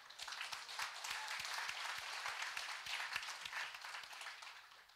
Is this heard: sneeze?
no